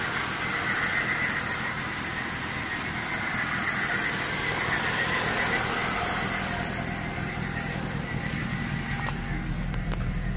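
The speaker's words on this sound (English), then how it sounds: "Car is running." A 2009 Mercedes C63 engine running steadily after flood damage, a continuous near, moderately loud idle with broadband rumble and no talk.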